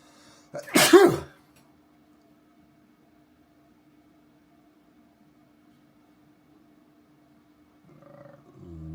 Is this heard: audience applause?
no